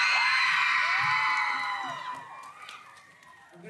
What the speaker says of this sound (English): Percy Jackson, I'm gonna get the same screams every time